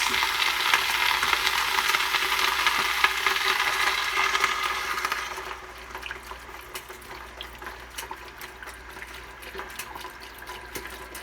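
Stock poured into a pot of beef and shrimp curry stew with baby carrots, a steady broadband watery rush for about five seconds that then drops to a softer, intermittent trickle and splash; no talking.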